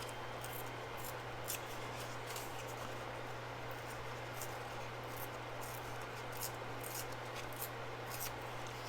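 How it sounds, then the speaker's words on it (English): Paper scraps torn by hand for a chipboard cover, a soft continuous rasping and ripping with faint crisp ticks, close and quiet, with a steady low hum underneath and no voices. "So we're just going to hand tear it."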